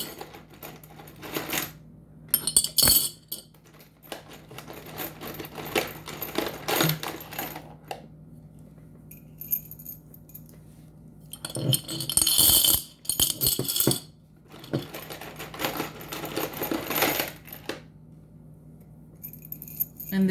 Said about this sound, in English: I am going to put these nails into this jar.